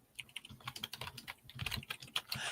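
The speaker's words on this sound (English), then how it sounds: "I just hear typing away" Quick, uneven typing on a computer keyboard, a close run of soft key clicks in irregular bursts, fairly quiet with no voices.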